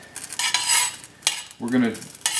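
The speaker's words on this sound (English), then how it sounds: "we're going to spread the butter around here, make sure it gets everywhere" Butter spread around a hot pan set to medium high, a few short scraping and sizzling strokes with brief pauses between them, close by and without talk.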